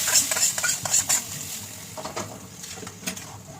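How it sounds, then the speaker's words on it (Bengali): Whole cumin, garam masala and a small dried chilli sizzling in hot oil for a goat mutton curry, with a soft frying hiss under a few quick stirring scrapes and clinks close by. "তেলটার মধ্যে ফোড়ন দিয়ে দিচ্ছি জিরে গোটা গরম মশলা একটা ছোট শুকনো লঙ্কা"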